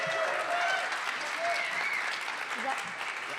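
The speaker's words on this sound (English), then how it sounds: "Can we get a round of applause for Holly, please?" Steady audience applause at an online live poetry jam as a performer named Holly is welcomed to the stage, a dense wash of many hands clapping at even volume throughout, with faint tonal whistles or cheers poking through.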